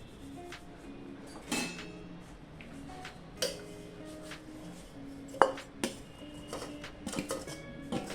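Rice flour and roasted gram powder being mixed into hot water in a pot, heard as sparse, quiet clinks and taps of a spoon against the vessel with faint scraping between.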